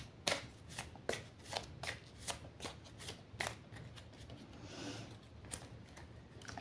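Oracle card deck being cut and shuffled by hand, with a series of crisp riffling and slapping card sounds at an irregular rhythm, close and fairly quiet, with no talking.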